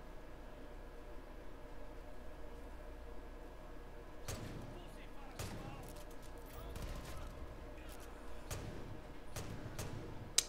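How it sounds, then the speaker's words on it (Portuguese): Bursts of rapid gunfire in the video game Far Cry 5 crackle in several volleys over a low, steady background hum, with a voice faintly present. "Dei 30 tiros e errei todos."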